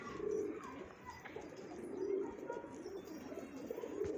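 Pigeons kept by a neighbour's flock coo quietly in the background, giving three soft, low calls spaced a couple of seconds apart against a faint ambient hum.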